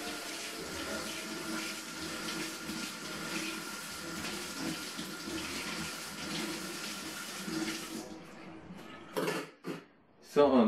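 Tap water runs steadily from a kitchen faucet while blender parts are rinsed, a broad continuous splashing that breaks into short gushes and pauses near the end.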